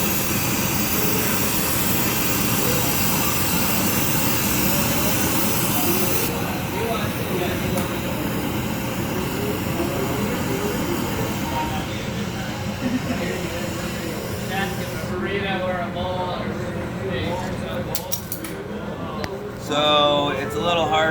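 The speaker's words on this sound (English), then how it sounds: "Annealing flame, get it all warm at one time." A glassblowing torch's annealing flame roars in a continuous, broad hiss close by, steady throughout with slight shifts in tone, while a person talks over it at times.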